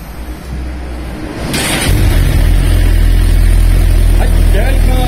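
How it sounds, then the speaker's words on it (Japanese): Suzuki GSX-R1000 sport bike with a Yoshimura dual exhaust cranks and fires up, settling into a loud, steady idle rumble close by. "それではですね、エンジン始動いきたいと思います"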